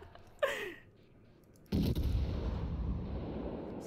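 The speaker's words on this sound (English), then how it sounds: "Gunfire at the Koenig." Naval gunfire in World of Warships, a sharp blast near the start followed by a loud, sustained rumbling roar of guns and explosions that fills the rest of the clip.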